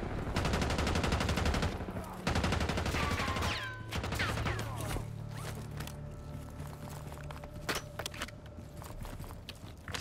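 Rapid gunfire bursts from Call of Duty, dense automatic shots rattling loudly through the opening seconds, then scattered shots and explosions continuing under a steady in-game background hum.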